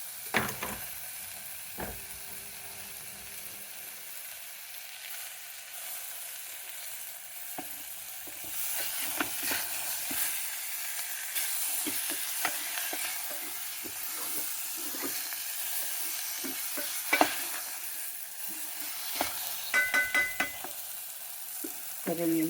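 Tomatoes fry and hiss steadily in a pan while a spoon stirs them in scraping, irregular strokes, close and moderately loud, with occasional sharper clinks.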